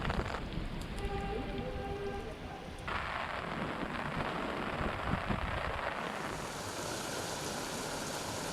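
Steady rain falls outdoors in a dense, even hiss that stays constant throughout, with a faint rumble beneath and no voices.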